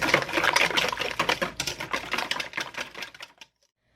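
Maple syrup is whisked into pumpkin pie filling in a bowl: fast, busy clicking and tapping strokes at close range that stop abruptly near the end. No voices.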